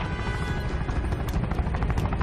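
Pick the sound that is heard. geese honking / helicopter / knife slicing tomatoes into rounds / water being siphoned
helicopter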